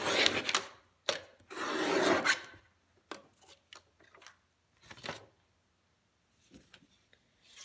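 Paper matchbook notepad being cut across its top part, several rasping cutting strokes in short bursts, followed by faint snips and small handling taps, close and fairly quiet.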